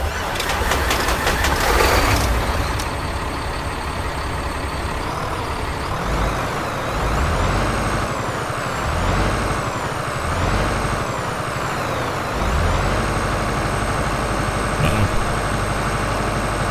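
A Mack Pinnacle semi truck in American Truck Simulator starts up with a loud air brake hiss, then its diesel engine rumbles into a steady idle with revs rising and falling, heard up close with no talking.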